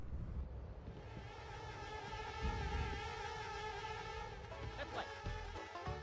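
Tickle bees buzz in Conker's Bad Fur Day, a steady insect-like drone with tonal layers running continuously over busy game music and ambience, with no talking.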